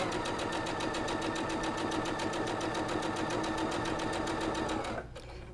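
A sewing machine runs fast and steady as it stitches quilt fabric for a flying geese block, its rapid even rattle going on without a break before it stops abruptly near the end.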